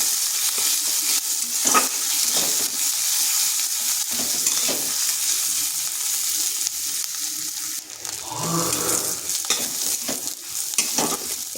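Chopped garlic and a dried chili frying gently in hot oil for a Bengali masoor dal with spinach, a steady close sizzle with occasional stirring scrapes and clinks and no talk.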